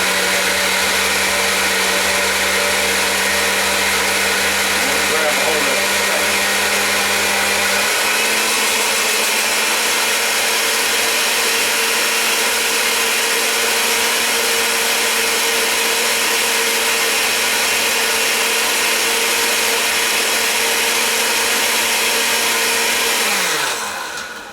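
Kale churned in a blender at medium speed: loud, steady motor whine that drops in pitch partway through as the leaves pull down into the blades, then cuts off at the end.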